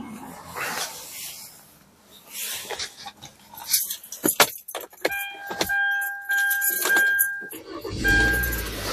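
A 2012 Hyundai Tucson starting up after a battery replacement, with keys jangling and the engine cranking and catching, then a steady idle hum with a faint tone alongside, and a voice speaking briefly.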